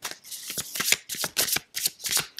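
Oracle cards shuffled by hand in a reading, a close, crisp riffling flutter coming in quick repeated bursts with short pauses between them, no voices.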